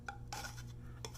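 A palette knife scrapes and taps against a cup while scooping thick white oil paint, with a few short clinks and scrapes close by and no talking.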